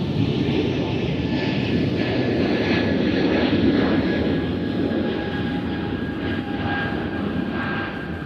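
A Beech airplane at Nashville International Airport, a steady loud roar of aircraft engines that holds throughout and fades slightly at the end, heard outdoors with a faint background voice.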